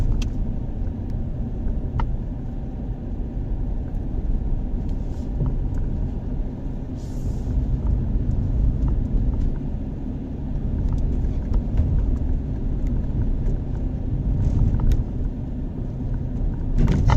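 A car drives along a road during a driving lesson on a test route in Adalar, its engine and tyre rumble a constant, close drone throughout with no voices heard.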